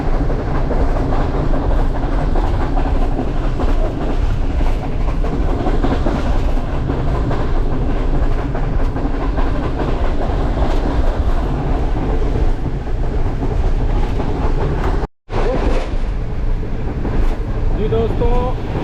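Karakoram Express passenger train running at about 116 km/h on rails between Karachi and Lahore, a steady loud rumble with rhythmic clickety-clack of wheels throughout and a brief dropout near the end.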